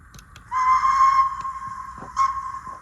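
A model locomotive sound decoder plays a steam whistle steadily for about a second, then a second short toot, with faint mechanical chuffing underneath; Bachmann Precedent Class 2-4-0.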